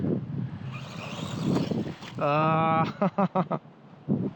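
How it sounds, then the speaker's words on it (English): A WL Toys 144001 1/14 RC car's small brushed motor whines steadily while spinning its tires, then pulses in several short throttle bursts, with wind noise in the background. "Believe it or not, this little brush motor is actually spinning the tires."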